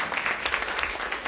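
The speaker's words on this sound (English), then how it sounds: "we'll give them a round of applause" A lecture audience claps for the helpers who prepared electrified-water demonstrations, a brief burst of many hands clapping at moderate loudness.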